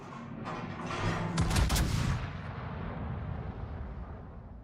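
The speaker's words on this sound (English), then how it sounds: "I'm going to shoot the Rico." Warship guns fire in the naval video game World of Warships: a deep, booming salvo swells to a loud peak, then rumbles away into a long fading roar.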